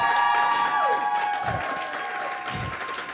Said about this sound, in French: Je veux que vous applaudissiez pour F2 USA.